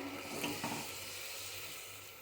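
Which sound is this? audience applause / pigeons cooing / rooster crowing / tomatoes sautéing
tomatoes sautéing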